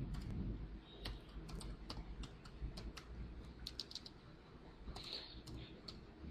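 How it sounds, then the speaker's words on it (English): Quiet computer keyboard typing, with irregular light key clicks pattering over a low background rumble for several seconds. "I'll just type some text on it."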